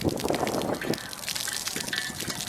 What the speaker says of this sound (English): the water comes out of that tap